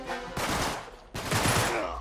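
Rapid gunfire in Uncharted 3, two dense bursts of close, loud shots separated by a brief lull.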